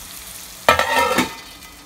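A raw mango pulihora mixture fries in a covered pan: a sudden clatter gives way to a swelling sizzle that fades within about a second.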